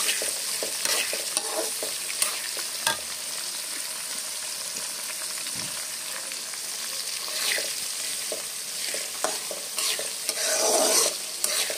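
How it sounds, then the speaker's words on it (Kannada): Onion, green chili and curry leaves fry in a pan with a steady close sizzle, broken by occasional scraping stirs and a louder crackling swell near the end. "ಈರುಳ್ಳಿ ಸ್ವಲ್ಪ ಚೆನ್ನಾಗಿ ಫ್ರೈ ಮಾಡ್ಕೋಬೇಕು. ಒಂದೆರಡು ನಿಮಿಷ ಫ್ರೈ ಮಾಡ್ಕೋಬೇಕು ಈರುಳ್ಳಿ."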